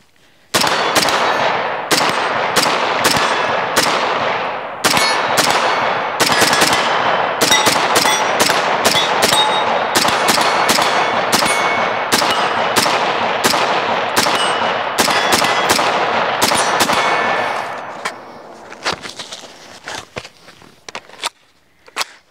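A rifle fitted with a Novalite muzzle brake empties a full magazine in a long string of sharp, loud, closely spaced shots with brief gaps, then falls quiet with faint metallic handling sounds.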